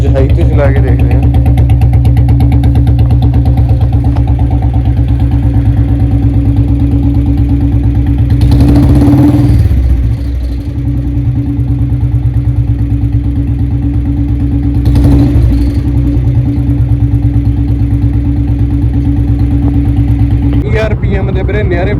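A Bullet motorcycle engine runs loud and close after a cold start following a week of standing, held at high revs with a steady, thumping drone that surges briefly twice before settling.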